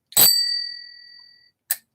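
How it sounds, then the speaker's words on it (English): A bright bell-like notification chime rings once and decays over about a second, then a short second ding follows, clean and alone. "hit that notification bell because it lets you know when content of all sorts goes up here on the channel"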